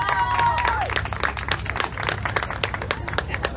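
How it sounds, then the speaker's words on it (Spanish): An audience at a comic book presentation at a book fair claps for two guests, brief moderate applause with distinct individual claps over low room rumble, fading as a voice and a short tonal sound appear early on. "Un aplauso para ambos"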